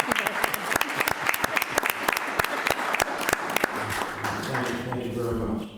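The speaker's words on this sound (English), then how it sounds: "we'll give you a round of applause." A room full of people at a town select board meeting claps, sharp hand claps building into steady applause, then tapering off as the clapping thins out.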